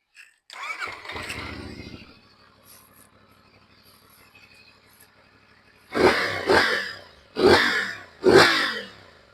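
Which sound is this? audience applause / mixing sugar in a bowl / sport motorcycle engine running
sport motorcycle engine running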